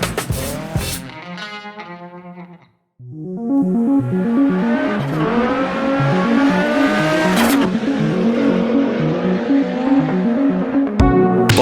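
A rally car tears down a gravel forest stage in Richard Burns Rally, its engine revving hard and climbing through rapid gear changes, with a brief cut to near silence before the loud, strained howl resumes.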